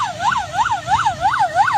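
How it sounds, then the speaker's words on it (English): An emergency vehicle siren wails in a steady rising and falling sweep, about five cycles, loud and close over low traffic rumble, with no voices. "That's common sound of emergency."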